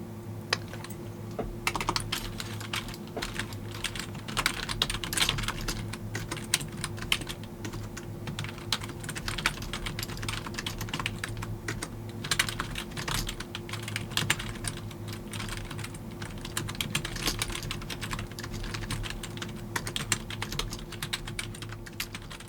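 Rapid, continuous typing on a computer keyboard during an interior design consultation, with close, crisp key clicks in a steady stream over a faint background hum, and no talking.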